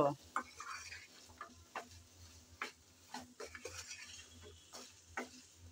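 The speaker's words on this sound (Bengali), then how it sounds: "সব মশলাগুলো দিয়ে নেড়ে চেড়ে আবারও ভালো করে কষিয়ে নেব" Turmeric, chili powder and salt for a sour mango curry are stirred in a pan: scattered quiet clicks and scrapes of the utensil over a low, faint sizzle and hum.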